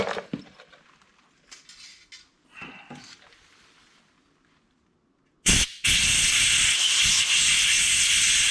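Compressed air blasts chips out of a tapped thread hole during thread repair work. After a quiet stretch with a few faint clicks, a sharp burst of air hits, stops briefly, then resumes as a loud, steady hiss.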